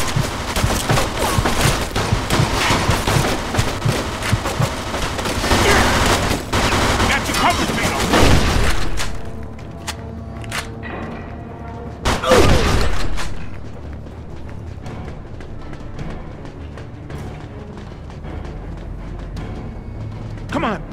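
A Mafia 2 shootout erupts with dense, rapid gunfire volleys for several seconds, then scattered single shots and bursts further off, loud and close at first, with shouting voices over the shooting.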